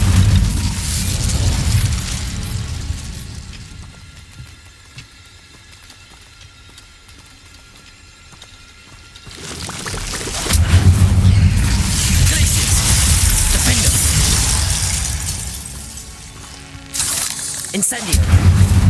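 Incendio fire spells blast in Hogwarts Legacy, loud bursts of roaring flame that swell, drop away to a quieter stretch, then surge again with heavy booming, while a player's voice is heard over the action.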